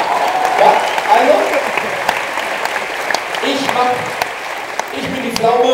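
A live comedy audience at the Zeltfestival Ruhr tent festival in Bochum claps moderately in the background while people talk over it throughout.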